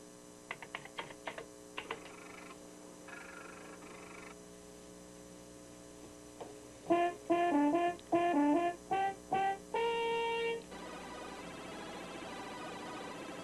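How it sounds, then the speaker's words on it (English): A synthesized trumpet-like tone plays a short run of bright, separate notes after some light clicking and steady hum, fairly quiet overall. "you can push another button and reproduce the sight and sound of a trumpet"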